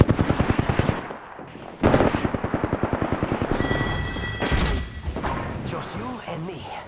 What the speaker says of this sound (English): Enemy over there. I am getting shot at. We're firing.